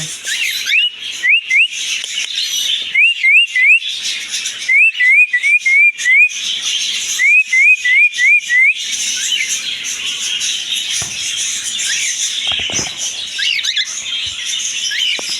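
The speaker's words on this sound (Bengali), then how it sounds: "আর এদিকে আছে ককাটিল পাখি" Caged cockatiels at a bird and aquarium market give repeated rising whistled calls in quick runs of three to five, fairly loud and near, with other chirps and chatter around them.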